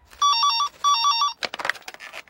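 A telephone bell rings in two quick trilling bursts, loud and close, followed by a short stretch of clattering, uneven noise with no voices.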